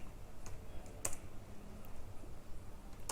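Rapid, light keystrokes on a computer keyboard tap away steadily for several seconds, with a few sharper clicks standing out against a low background hum.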